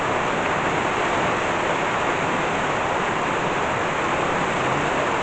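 Heavy rain runoff after a tropical thunderstorm downpour in Burgos, Cebu, pours as a loud, steady, broadband rush of water that stays constant and close throughout, with no voices.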